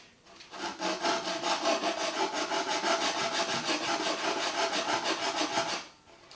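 Rapid rhythmic rasping strokes of hand sanding on an MDF board, steady back-and-forth scrubbing for several seconds, close and fairly quiet.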